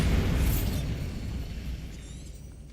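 Bombarda spell explosion in Hogwarts Legacy, a heavy booming blast at the start that rolls off into a long fading rumble with light debris, no voices.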